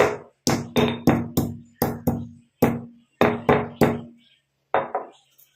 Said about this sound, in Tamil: அதனால லைட்டாக தட்டிட்டு நம்ம ஆட் பண்ணிக்கலாம். இதில் இந்த மாதிரி இடிகள் எடுத்துட்டு 1 2 தட்டிக்கலாம்